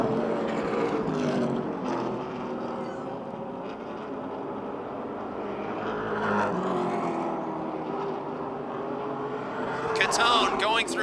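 Race cars lap the oval at Motordrome Speedway, a continuous roar of engines swelling and fading as they pass, heard beneath a commentator's steady talk throughout.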